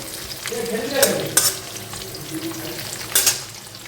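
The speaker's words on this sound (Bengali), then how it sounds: "কাজু কিশমিশটা ভাজা হয়ে গেছে" Cashews and raisins fry in a pan, a close, fairly loud sizzle with stirring scrapes and a few sharp clatters from the utensil against the pan, no talking.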